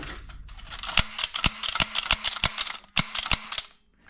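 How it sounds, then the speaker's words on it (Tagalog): A toy cap gun pops off a rapid string of sharp, snappy cracks, about a dozen shots in quick irregular bursts, close to the microphone. "Baril-baril yan."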